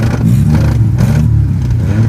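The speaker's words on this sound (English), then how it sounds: "You doing a burnout over there?" A car doing a burnout, a loud, steady engine roar held close and continuous with a rough, scraping edge throughout.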